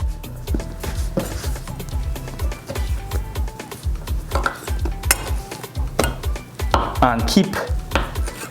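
Steady knife chopping through Sada roti dough on a board in a Trinidad-style home kitchen, repeated firm thumps in quick uneven bursts, close and loud, with a brief spoken word partway through.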